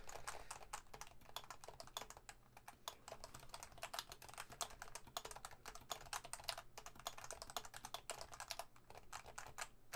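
Rapid, dense clacking of keys on a mechanical keyboard fitted with JTK sliders, a continuous flurry of crisp close-up keystrokes at fairly low volume with no talking.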